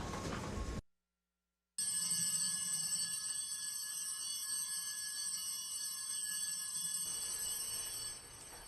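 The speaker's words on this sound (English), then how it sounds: "That's the sound of bells at Santa Teresita Church in Manilao at 3 p.m." Bright metallic church bells at Santa Teresita Church in Mangilao, Guam, ring at 3 p.m. with a sustained, shimmering tone after a short gap, continuing steadily and slightly distant.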